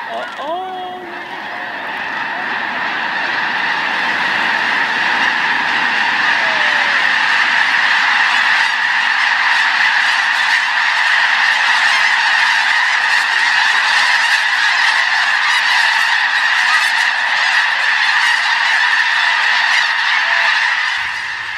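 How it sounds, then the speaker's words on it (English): A huge flock of geese at a pond in Bosque del Apache National Wildlife Refuge lifts off all at once, raising a loud, dense, continuous wall of honking that swells within seconds and holds for a long stretch, close and overwhelming. "all of the geese left at one time. They left in unison. This is what's known as a blast-off."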